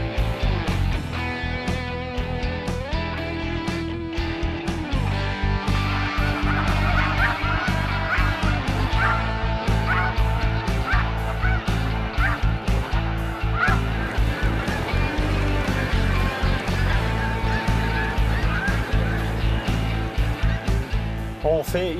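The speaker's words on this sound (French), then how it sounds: "L'oie blanche, c'est la seule espèce d'oiseau migrateur qu'on peut chasser au printemps." A large flock of snow geese honks continuously in a spring wetland at Montmagny, a dense, loud chorus of overlapping calls with a voice talking over it.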